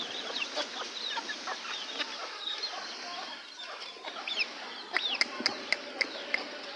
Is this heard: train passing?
no